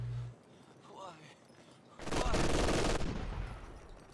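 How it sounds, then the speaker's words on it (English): LMG machine gun bursts in Company of Heroes 2, a 1v1 match between Soviet and German forces: a loud, dense one-second volley of rapid fire after a quieter stretch, with a commentator's voice around it. "a couple of LMG bursts, not really connecting there"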